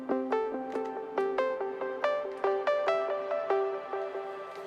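A plucky Spire synth preset plays a bright, quick melodic pattern of short decaying notes in a steady rhythm, clean and alone with no voices.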